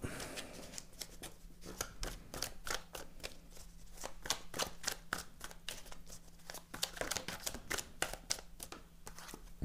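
Cards being drawn one at a time from a deck, giving a quick, steady run of soft snapping and flicking sounds, close and quiet, with no talk.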